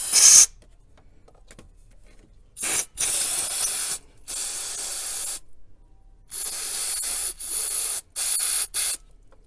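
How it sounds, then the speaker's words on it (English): Brake cleaner sprayed from an aerosol can into the stem of a transmission solenoid on a Honda/Acura Accord, loud close hissing bursts of varying length, roughly seven sprays separated by short silences. "And just shoot brake cleaner down it."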